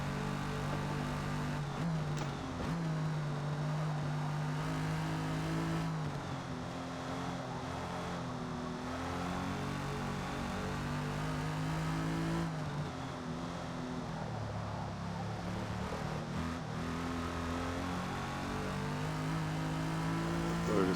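A race car held in fourth gear over a bumpy track, its engine droning steadily with shifting pitch as the throttle is balanced, heard from inside, loud and continuous.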